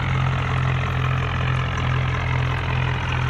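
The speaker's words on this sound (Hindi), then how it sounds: "धीरे धीरे करके हमारा जो ट्रैक्टर है वो ऊपर चढ़ रहा है।" A tractor engine in a tractor simulator video game drones steadily with a low, even hum while the tractor climbs a slope, loud and continuous with no pauses.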